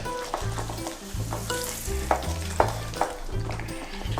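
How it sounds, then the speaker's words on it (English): An egg and an extra yolk being whisked in a bowl for cupcake batter, a close, busy scraping and rattling in quick strokes with a few sharper knocks against the bowl. "So whisk well to combine."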